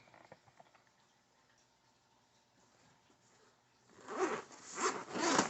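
The zipper on the front section of a tackle bag is pulled in a few quick rasping strokes, close and fairly loud, after a quiet stretch of faint handling.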